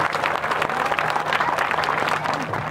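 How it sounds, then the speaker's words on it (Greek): Dense crowd applause for a Polish folk dance ensemble from Płock, Masovia, performing at a festival in Greece, a steady, moderately loud patter of many hands with no voices. "Ένα χειροκρότημα για το χορευτικό από την Πολωνία"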